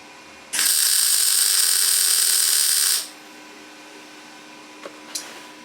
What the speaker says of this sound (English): Big juicy spot weld on it.